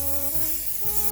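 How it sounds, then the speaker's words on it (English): Cleaner sprayed onto an old, dirty iMac gives a continuous close hiss that cuts off abruptly near the end, over a faint background hum. "just spray this down and clean it"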